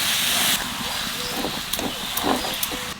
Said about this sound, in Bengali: মশলার সাথে পটল চিংড়িটা একটু কষায় নিলাম